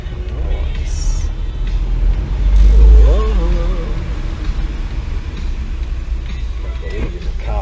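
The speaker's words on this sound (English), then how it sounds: "There's a car behind me." A car passing close behind someone walking outdoors along a residential street in Japan, a steady low engine rumble that swells to its loudest around the middle and then fades, with faint voices nearby.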